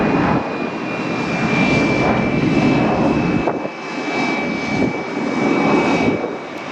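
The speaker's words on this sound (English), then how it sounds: "Rolling out is 899 Delta November 737-900, 5 years old." A five-year-old Delta Boeing 737-900 jet rolls out at Atlanta airport, its engines producing a steady, loud roar with a high whine. The roar swells and eases slightly over several seconds. No one speaks.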